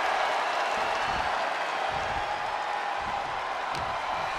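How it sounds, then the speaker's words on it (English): Steady arena crowd roar with scattered applause from the WWE 2K24 video game during an Elimination Chamber match for the Intercontinental Championship, a continuous dense wash of noise with occasional louder swells and no talk. "This crowd is on fire."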